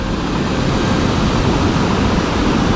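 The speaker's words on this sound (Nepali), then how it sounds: "हेर्नु न त्यत्रो टनेलबाट खोला आइरहेको छ यार।" A river rushes out of a tunnel on a ride near the Nepal–China border at Khasa, Tatopani, a loud, dense, unbroken roar of water close by, steady throughout with no voices.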